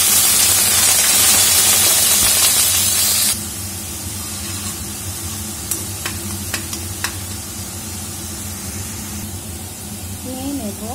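Onion paste tipped into hot oil in a kadai, starting with a loud, bright burst of sizzling spray that drops after a few seconds into a steady, softer frying hiss with a few clicks.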